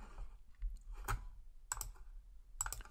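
Sharp computer mouse clicks while working in V8R4 software, three distinct quick clicks spaced about half a second to a second apart, close and fairly quiet over a faint low hum.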